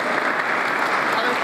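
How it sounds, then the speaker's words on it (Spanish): A crowd at an outdoor patron-saint festival in Coronel Moldes claps in a short, even burst of applause. "a todos los médicos, a la gente de la inspectoría, un aplauso"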